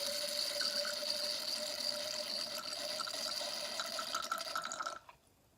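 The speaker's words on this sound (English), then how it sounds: "we are going to pour and hear this really cool sound to let us know that the wine is being aerated" Wine poured through an aerator into a glass, giving a continuous airy whistling and gurgling hiss that runs steadily for about five seconds and then stops abruptly, leaving near silence.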